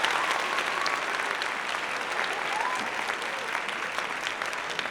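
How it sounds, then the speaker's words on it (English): An audience at an awards gala applauds in a steady, dense wash of clapping that carries evenly for several seconds without pause. "give a round of applause to Hilton Hotel"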